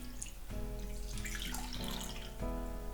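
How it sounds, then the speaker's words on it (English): A water and milk mixture is poured into a bowl holding yeast for bread dough, giving a steady close trickling pour that swells and shifts in pitch as the bowl fills. "I put my yeast in the bowl first, followed by my water milk mixture."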